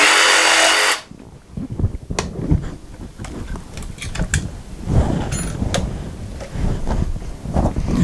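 A DeWalt DCS331 cordless jigsaw cuts fast and rough: a loud, sharp burst of motor noise, then an irregular, rasping chatter of the blade biting through the workpiece, close up.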